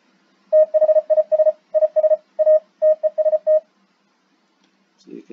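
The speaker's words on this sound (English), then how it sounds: "speak into it, and then it translates it into Morse code" Radio Morse code tones beep in bursts of short and long pulses for about three seconds, a clean steady pitch with brief gaps, close and loud over near silence, followed by a faint click.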